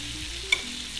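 Lobster sears in a hot pan with a steady, close hiss of sizzling fat and a brief sharp crackle midway, with no talking.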